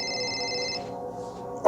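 A phone in a scary animation rings with a steady electronic tone that cuts off partway, followed by quieter sustained sound and a sharp click at the very end.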